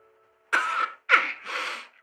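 One person coughs twice in quick succession, a sharp close cough followed by a second cough that trails into a breathy rasp, set against silence.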